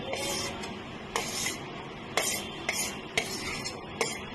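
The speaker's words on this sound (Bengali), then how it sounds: "এই সবজিটা আমার ভাজা ভাজা হয়ে গেছে এর মধ্যে মিশিয়ে দেবো" Repeated scraping strokes of a spoon stirring fried vegetables into a thick batter in a pan, roughly every half second, close and moderately loud.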